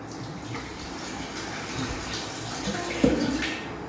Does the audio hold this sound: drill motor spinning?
no